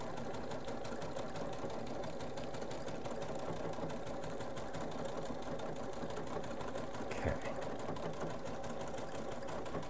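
A Solaris 2 sewing machine stitches steadily through fabric, its fast even mechanical whir running unbroken and close, with a single faint knock partway through.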